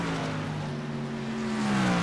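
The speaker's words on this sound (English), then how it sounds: "I heard some tire screeching." Race truck tires screech in a racing game at Summit Point, a sustained squeal with sliding pitch over a steady roar of engines that swells slightly toward the end.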